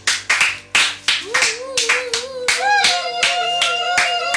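A church congregation at an evangelical service claps loudly and close up in quick, uneven bursts, which settle into steady applause. A voice sings or hums a sustained tone over the clapping.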